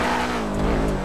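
A stolen car's engine in the GTA roleplay game revs hard and close, a loud, continuous droning growl that stays high and steady throughout.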